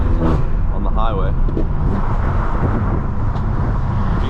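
Engine hum and road rumble of a BMW 3 Series driving on a local street run constantly under a person talking, loud and close from inside the cabin.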